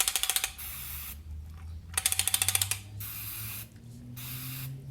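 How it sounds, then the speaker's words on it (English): Rapid clicking bursts and hissing sprays of carb cleaner aimed into a part of a BMW E34 530i engine being fixed for rough idle, repeated in several short blasts close up with a low idle drone beneath. "you just take your carb cleaner again, spray it"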